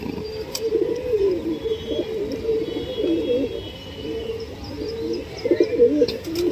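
Pigeons coo steadily and close by in a loft where young birds are learning to fly, with soft chirps and a few faint wing flaps mixed in, and no talking.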